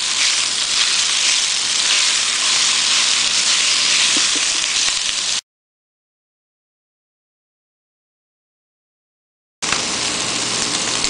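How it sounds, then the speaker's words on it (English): Pork stir-frying in hot oil in a pan, a steady close broadband sizzle that runs for about five seconds, drops to silence, then resumes near the end. "I'm going to go ahead and add in my pork. And I'm just going to go ahead and stir fry it for a few minutes"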